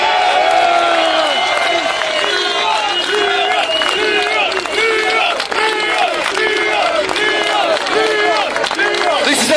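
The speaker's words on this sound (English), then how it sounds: "Can I have a round of applause for Leon?" A dense outdoor rally crowd cheers and claps for Leon, with shouts and voices rising over scattered clapping in a loud, continuous roar.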